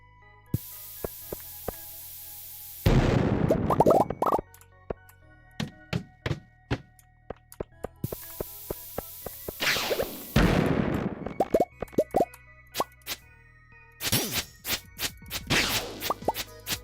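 Bombs blow up in Stardew Valley Expanded, three bursts of noisy blasts each ringing out for about a second, separated by quick popping thuds and small clicks.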